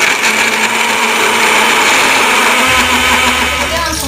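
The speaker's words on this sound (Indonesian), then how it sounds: "Langsung kita blender sampai halus." A blender grinds asam sunti spice paste in a home kitchen, a loud continuous whirring drone with a steady high-pitched motor whine that holds throughout, its tone shifting slightly lower near the end.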